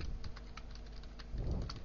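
Code being typed on a computer keyboard while building an HTML file: a steady run of soft, close key taps with a slightly busier burst near the end, no voices.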